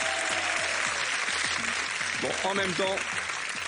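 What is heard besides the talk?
audience applause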